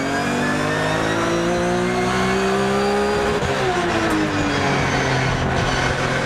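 Race cars in a Supercar Challenge round at Zandvoort circuit roar past with loud, continuous engine noise, the pitch climbing then dropping as they pass and shift, close and dense throughout.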